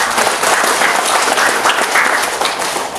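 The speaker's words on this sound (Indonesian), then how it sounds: "Tepuk tangan." Loud, dense applause fills the room at a NasDem party inauguration and consolidation event in Merauke, a continuous wash of many hands clapping at once with no break.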